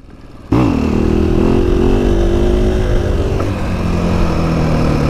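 A 2020 KTM 500 EXC-F dirt bike roars to life after a brief half-second hush, then holds a loud, close, steady engine drone with slight revving shifts throughout.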